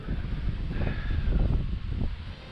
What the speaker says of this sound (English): Nice windy breeze.